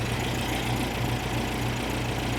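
A 1973 VW Super Beetle with a rebuilt 1760cc engine, dual 40 carburetors and a new exhaust runs at idle on its first firing, a loud steady rumbling putter that fills the clip with no talk.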